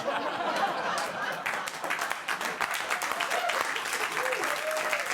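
An audience claps and applauds continuously, a dense, lively burst of clapping with faint laughter mixed in.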